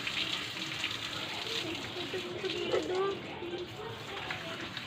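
Tap water runs steadily for bathing pets, a constant splashing gush with people talking over it.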